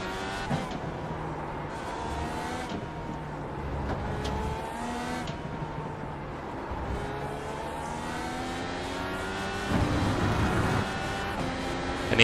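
An IndyCar race car in iRacing howls at high revs through a steady stretch on the Indianapolis road course, its engine note rising and falling with gear changes and other cars' engines layered around it, loud and continuous with no talk.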